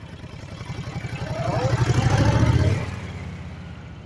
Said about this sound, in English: engine started, let's go. I'm in first